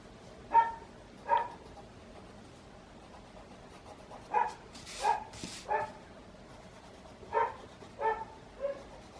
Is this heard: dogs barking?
yes